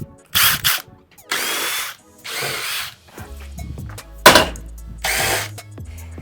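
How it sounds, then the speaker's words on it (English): A brushless Makita screw gun driving screws during a treadmill teardown: five or six close, loud whirring bursts of a second or so each, separated by short pauses. "we are going to move to this brushless Makita screw gun"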